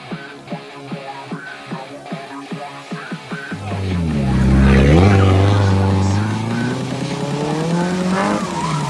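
Revving engine of a drift car at a Sunday drift session, then a long, loud tire squeal as the car slides. The sound swells to a peak and fades slightly, with a higher engine whine throughout.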